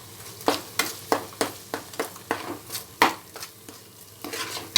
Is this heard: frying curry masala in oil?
yes